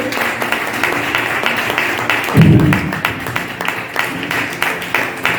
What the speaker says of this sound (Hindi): सो जोरदार ताली बजा के परमेश्वर का हम धन्यवाद